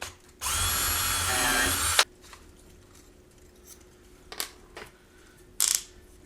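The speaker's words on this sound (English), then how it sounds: "So I'm going to replace those with screws." A WORKPRO 20V cordless drill drives a screw in one steady loud whir lasting under two seconds, followed by quieter clicks and short rattling handling sounds nearby.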